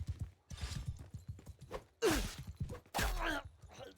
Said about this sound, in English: I hate these slow-ass horses.